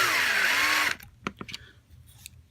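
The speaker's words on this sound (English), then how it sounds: "starting very, very slowly and pushing against the drill bit with the car rather than pushing the drill into" A drill bit boring slowly into a Hot Wheels toy car, a steady high whine for nearly a second that stops abruptly, followed by a few short clicks and taps of handling.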